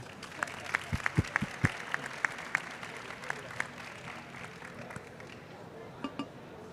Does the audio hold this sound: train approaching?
no